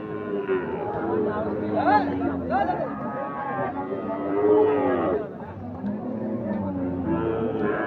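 Cattle low repeatedly at a livestock market, several rising moos close by over a constant crowd murmur and nearby talk.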